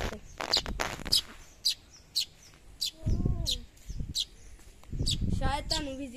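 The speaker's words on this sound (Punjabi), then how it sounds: "ਕਿੰਨੀਆਂ ਸੁੰਦਰ ਚਿੜੀਆਂ ਰੈੱਡ ਕਲਰ ਦੀਆਂ ਤਾਰ 'ਤੇ" Small red birds perched on a wire chirp in quick bright calls scattered throughout, with some louder warbling phrases, while a person speaks over them in between.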